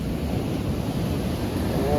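Stormy sea waves wash ashore with a constant roaring rush of surf, mixed with wind buffeting the microphone close by.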